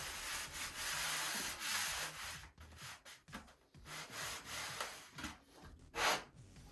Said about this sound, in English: I'm only sanding over the spar, nowhere else.